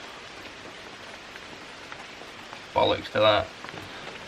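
Torrential rain pours down steadily around a solo wilderness shelter camp during a thunderstorm, a soft, even hiss in the background, briefly interrupted by a man's short, close spoken remark.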